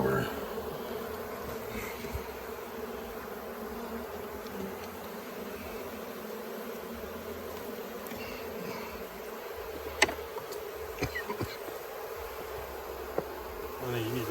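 Italian honey bees hum steadily while a nuc package is installed outdoors, a dense continuous buzz throughout with a few faint clicks and knocks over the top, no clear talk.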